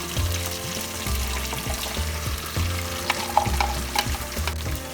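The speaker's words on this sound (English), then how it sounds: "Keep stirring for few more minutes until the raw smell of spices go away" A paste of coconut, cashew and melon seeds fries in a pan for Bengali dhokar dalna, a steady sizzle under repeated rhythmic scraping strokes of a spoon stirring close by.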